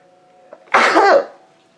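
A single loud, sharp sneeze bursts out after a faint intake of breath, close and abrupt, then quiet returns.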